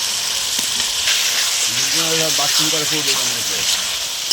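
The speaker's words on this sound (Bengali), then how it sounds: "তো মশলাটা কষিয়ে নেব। এখানে আলুগুলো দিয়ে দিলাম, ওটাও কষা হয়ে যাবে।" Potatoes fry in spice paste for a bhetki fish-head curry, a close hissing sizzle running throughout, with a voice speaking briefly over it in the middle.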